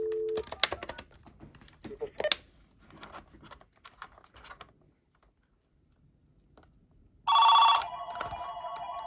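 An AT&T 821 line-powered telephone rings in one loud, bright burst near the end, after a series of small clicks and button taps.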